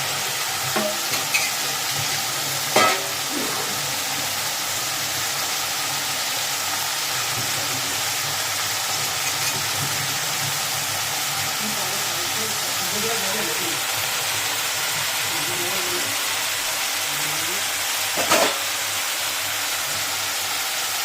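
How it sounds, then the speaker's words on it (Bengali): A paste of ginger, garlic and green chili fries with onion in a pan for a fish-head muri ghonto, sizzling steadily with occasional stirring clinks while someone talks over it. "এবার এই মশলাটাকে ভালো করে কষাবে"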